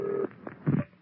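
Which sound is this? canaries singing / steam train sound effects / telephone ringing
telephone ringing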